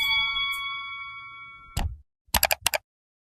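Notification bell ding sound effect, a bright ringing chime that fades over about two seconds, followed by a short thump and a quick run of small clicks and taps, all without voices.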